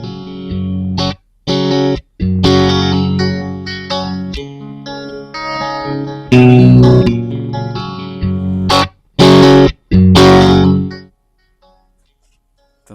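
A battered old guitar amplifier pushing out a loud distorted electric guitar, chords and riffs ringing with gaps of silence between phrases, near and alone, ending in quiet.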